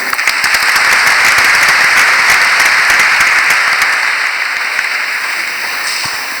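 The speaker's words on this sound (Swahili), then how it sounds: "Naomba tuwapigie makofi." An audience at a church event applauds, a dense continuous burst of clapping that stays loud throughout and tapers only slightly toward the end.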